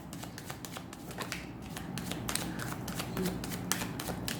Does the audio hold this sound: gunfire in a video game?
no